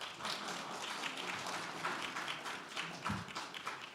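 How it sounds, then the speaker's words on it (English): Applause from a conference audience follows a speech on India's economic growth, a steady wash of many hands clapping at moderate, fairly distant level with no talk over it. "Please do give an applause."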